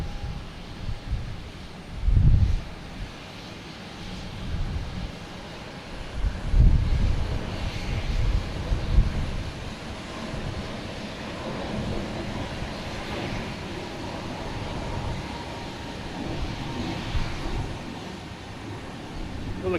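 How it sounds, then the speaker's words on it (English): Lufthansa airliner coming in to land at Boston Logan Airport, a steady distant jet engine roar mixed with wind buffeting on the microphone, with a couple of louder gusts. "Oh, that'd be a great shot of Lufthansa's coming in over this cruise ship."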